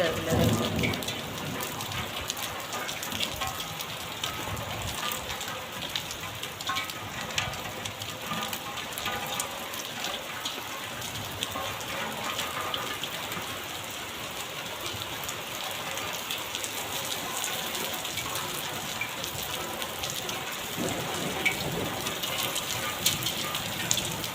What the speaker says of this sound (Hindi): बेमौसम की बारिश है, बिल्कुल बेमौसम की बारिश है।